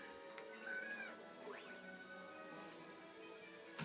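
Meowth meowing in Pokémon Let's Go Eevee, several rising and falling cat cries spread over a few seconds, clear and fairly close, set against a soft tonal background hum.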